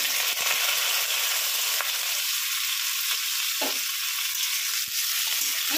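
Potatoes sizzle steadily in hot oil with a little asafoetida, a loud continuous crackle with occasional soft stirring sounds and no voices.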